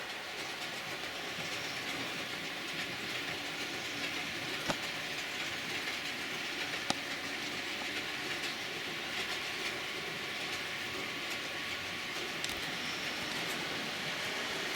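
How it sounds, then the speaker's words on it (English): A model train with light tanker wagons runs steadily along its layout track, a continuous close rumble and rail clatter with a few sharp clicks over the joints and points, no voices. "Just bear with me while I stop the train and change the points."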